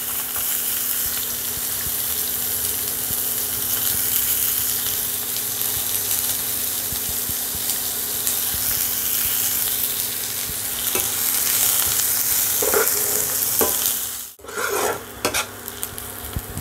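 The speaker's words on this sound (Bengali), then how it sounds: "এবার দিয়ে দিচ্ছি কুচনো পেঁয়াজ।" Chopped onions sizzle steadily in hot oil with black cumin seeds, a continuous frying hiss with occasional stirring scrapes and a brief clatter near the end.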